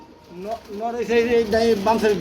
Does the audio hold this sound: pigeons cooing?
yes